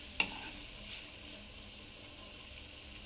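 Egg chutney with fresh coriander sizzles softly in a pan as it is stirred, a steady low frying hiss with one brief clink of the utensil near the start.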